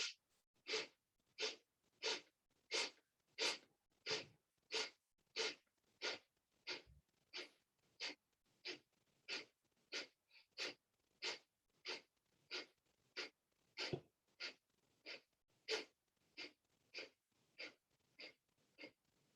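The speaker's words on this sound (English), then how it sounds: "And then begin breath of fire." Breath of fire yoga breathing: quick forceful nasal exhalations repeat in an even, rapid rhythm, about thirty sharp puffs, close and fairly quiet, with no talking.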